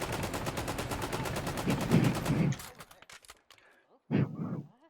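FN SCAR rifle fires in the VR shooting game H3VR, a rapid burst of close gunshots that stops abruptly, followed by a short pause and a brief later burst of sound.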